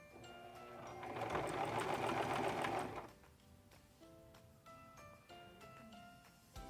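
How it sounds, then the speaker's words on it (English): A Singer Promise 1408 sewing machine stitching a buttonhole bar tack, a close, quick mechanical whirring burst of several stitches, then slower individual clicks and knocks as the needle settles. "And we just want to sew 6 to 8 stitches, whatever you feel comfortable, that creates the bottom bar tack of your buttonhole."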